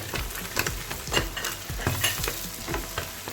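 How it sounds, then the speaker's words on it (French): Smoked fish, spring onions and green and red chili peppers stirred in a hot pan, with scraping utensil strokes in an irregular rhythm over a continuous close sizzle of frying. "je vais mélanger"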